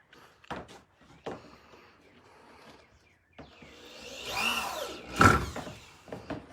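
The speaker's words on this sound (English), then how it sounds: "So I am going to use my plug-in drill, which I actually prefer." A corded electric drill driving a screw into wood, revving up in a rising whine that peaks with a sharp burst near the end, after a few clicks and handling knocks, close and fairly loud.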